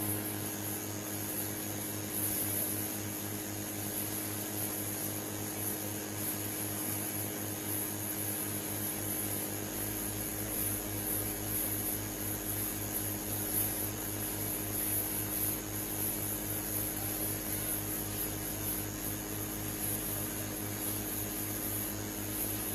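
The presidential airplane's engines run before takeoff, a steady loud whine and roar with constant tonal hum, rising slightly in low rumble partway through and holding evenly for over twenty seconds.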